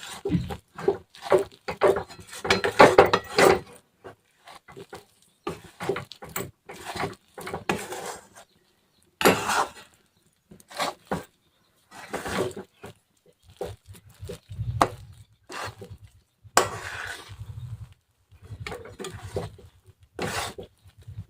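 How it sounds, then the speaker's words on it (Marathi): Berry mixture for laddu is stirred in a pan, producing repeated irregular scraping and crunchy clatter in short bursts separated by brief pauses, close and fairly loud. "आता मी परत दोन मिनटं दोन ते तीन मिनटं छान असं हे मिश्रण मिक्स करून घेईल"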